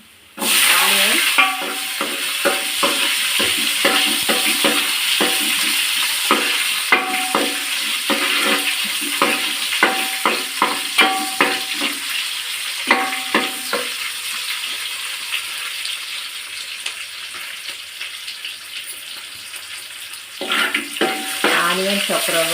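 Chopped onions frying in oil with a vadiyam in a pan, a loud continuous sizzle broken by rapid rhythmic scraping strokes of a stirring spoon in repeated bursts, close up.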